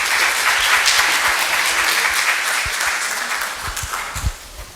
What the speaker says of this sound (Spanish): Los aplausos, por favor, también para la directora Marcela Chueca